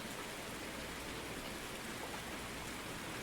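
Constant rainfall in the fishing game Ultimate Fishing Simulator, a faint, uniform wash of drops with no breaks or other sounds.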